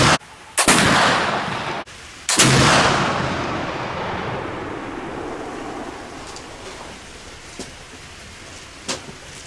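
A flintlock black powder rifle fires at a milk jug outdoors in the rain: a loud, sharp flash-pan crack followed by the main booming shot, then a long decaying rumble that fades into steady rain hiss with a few faint ticks.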